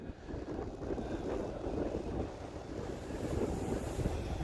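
Gusty wind buffets the microphone outdoors while a repaired FMS P-47 Razorback Bonnie 1500mm RC plane is test flown. A steady, fairly loud low roaring rumble runs throughout with no talking.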